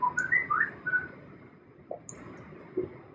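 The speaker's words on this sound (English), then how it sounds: "Nice whistle." A person whistles a few quick sliding notes, faint and distant over low room murmur, with a couple of sparse short chirps afterward.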